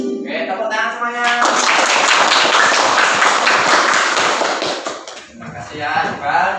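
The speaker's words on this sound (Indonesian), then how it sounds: "Oke, tepuk tangan semuanya." A classroom of students claps hands together after singing Indonesia Raya, a loud, dense burst of clapping lasting several seconds that thins out near the end with some voices mixed in.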